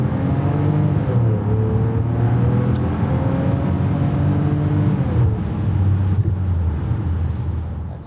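A Mercedes SL600 engine revs loud and close, pitch climbing and falling through repeated throttle blips over a steady low rumble, with no talking.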